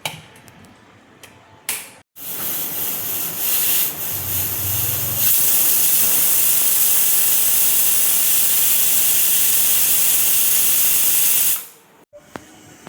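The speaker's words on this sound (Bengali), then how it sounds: "কুকারে আমি দুটো দেখো সিটি দেবো।" A pressure cooker on the stove cooking masoor dal with bottle gourd lets out a loud, sustained rush of hissing steam lasting several seconds, preceded by brief clatter, before cutting off abruptly.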